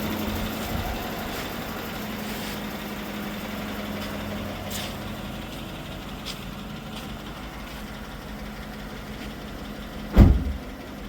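A GMC Sierra 1500 pickup runs on its replacement motor after a blown engine, a steady low engine drone held throughout, with a brief louder knock near the end.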